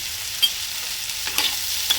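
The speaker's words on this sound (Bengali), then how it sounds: "সামান্য হলুদ, সামান্য লবণ দিয়ে দেবো, দিয়ে ভাজা ভাজা করবো" Green chili, ginger, turmeric and salt stir-frying in a pan, a soft steady sizzle with a few quick stirring scrapes, close and without voices.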